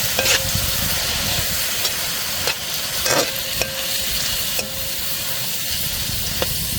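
June beetles frying in a pan for adobo, a loud steady sizzle and hiss with sharp scrapes and clicks of stirring at irregular intervals, close up.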